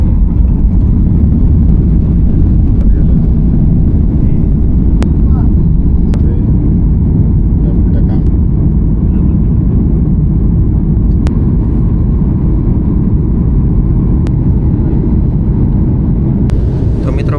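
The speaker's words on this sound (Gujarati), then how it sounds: "ફાઇનલી આપણી ટેકઓફ થઈ ગયું છે" Passenger jet taking off from Surat airport, heard from inside the cabin as a loud, steady engine roar and rumble that stays constant throughout, with faint voices underneath.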